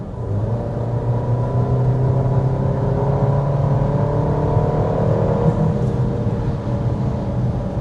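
A 2025 Volkswagen Tiguan's turbo four-cylinder engine drones steadily at full throttle, rising slightly in pitch as the SUV accelerates, smooth and sustained without any voices.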